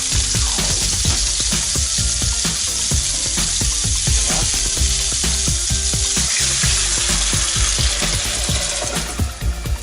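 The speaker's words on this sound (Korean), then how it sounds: "이 상태에서 이 풀어준 부침가루 물을 부어주도록 하겠습니다." Loud, crackling sizzle of frozen dumplings frying in hot oil as flour-batter water is poured into the pan, with bursts of spattering as the liquid hits, continuous and close.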